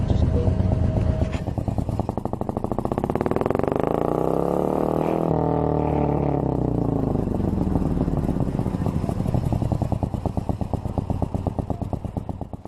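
A Morgan 3 Wheeler's engine, paired with a five-speed Mazda gearbox, revs hard while driving, a loud, steady raspy drone rising and falling in pitch with gear changes over several seconds, close and continuous.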